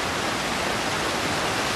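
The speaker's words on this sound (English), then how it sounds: "Oh, I hear water." Steady broadband rush of flowing water, like a stream or waterfall, in the jungle survival game Green Hell VR; continuous and fairly loud, with no voices.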